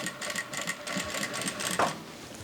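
A Vevor industrial sewing machine stitches cotton fabric in short, rapid bursts, its needle clattering in quick pulses close by with a brief pause and restart.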